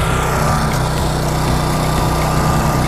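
A portable generator engine runs steadily at close range, a loud continuous droning hum with no breaks, while it powers a plugged-in light.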